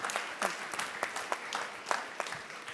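Sparse audience applause at the Haier Europe press conference at IFA 2025, scattered individual claps at a moderate distance, fairly faint and uneven.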